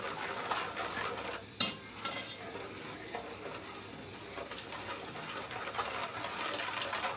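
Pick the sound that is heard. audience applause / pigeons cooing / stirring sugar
stirring sugar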